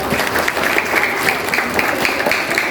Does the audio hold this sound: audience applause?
yes